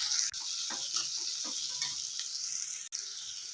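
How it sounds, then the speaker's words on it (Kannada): Chana dal sizzles and crackles in a hot pan as it is roasted and stirred, a steady close hiss with faint scraping strokes and no talking. "2-3 ನಿಮಿಷ ಕಡಲೆಬೇಳೆ ಚೆನ್ನಾಗಿ ಹುರ್ಕೊಳ್ಳೋಣ."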